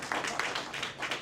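Short burst of audience clapping from a small crowd at a lounge gathering, uneven and moderately close, with no talk over it.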